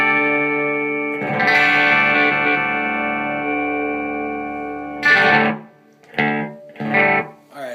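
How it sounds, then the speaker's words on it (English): Electric guitar played through a KNAS Ekdahl Moisturizer with its expression pedal sweeping like a wah, sustained distorted chords ringing with chorus-like wobble, then a few short strummed stabs near the end. "I'm just using the expression pedal as like kind of a wah."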